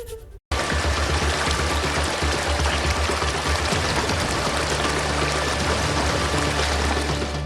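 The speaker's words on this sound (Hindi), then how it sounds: "असम में भारी बरसात से बाढ़ के हालात बने हुए हैं" Floodwater after heavy rain in Assam rushes in a steady, loud broadband flow that runs without a break after a brief dropout at the very start.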